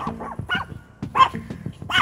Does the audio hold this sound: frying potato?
no